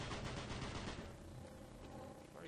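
Enemy gunfire aimed at the player in DOOM 3: a rapid, rattling burst of shots for about a second, then a fading, quieter tail. Faint and somewhat distant overall.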